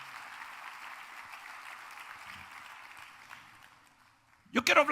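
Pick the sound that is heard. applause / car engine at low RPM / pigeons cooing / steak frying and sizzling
applause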